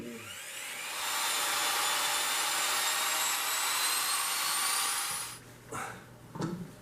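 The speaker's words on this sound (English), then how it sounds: "But then I'm going to run my drill in it with the mixer, and that will help mix everything up." An electric drill fitted with a mixer paddle stirring homemade laundry soap whirs loudly and steadily for about five seconds, then stops, leaving a few faint knocks and handling noises.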